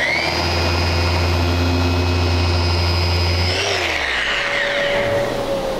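A Festool random orbital sander with 180-grit paper runs without dust extraction, giving a steady, close mechanical whine and hum. Partway through it winds down and drops to a quieter tone.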